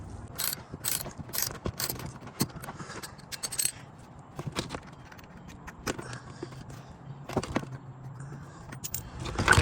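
Ratchet loosening the second bolt during a car oil change, rapid bursts of metallic clicking in irregular runs with clanks and jangles between them, close and fairly quiet, no talk.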